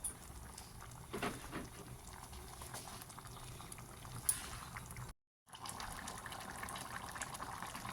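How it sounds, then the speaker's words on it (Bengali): Hot water being poured into simmering ghugni, a steady soft liquid gushing and bubbling that runs almost unbroken, faint and close, with a brief dropout partway through. "দিয়ে দিচ্ছি পরিমাণ মতো গরম জল।"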